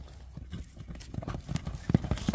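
A horse named Lexus galloping, its hooves clip-clopping in a quickening rhythm that grows louder and closer, with faint background voices.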